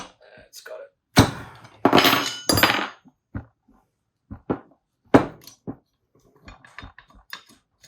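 Hammer tapping bearings into a 2003 KTM 250 SX dirt bike, a series of sharp metallic knocks in irregular bursts, some heavier strikes clustered together, close and loud with quiet gaps between.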